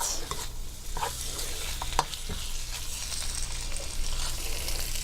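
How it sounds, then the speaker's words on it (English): Strips of steak for Mongolian beef stir-frying in a hot pan, a steady close sizzle throughout with occasional scraping stirs and a sharper clack near the middle, no voices. "And we're going to add our beef. We're going to cook that for 1 minute."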